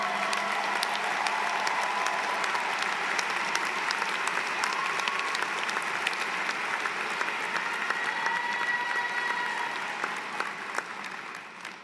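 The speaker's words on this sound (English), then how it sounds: "we will all be cheering you" A commencement crowd at an online graduate programs ceremony cheers and applauds a graduate, with dense, sustained clapping that carries evenly for about twelve seconds before easing off slightly at the end.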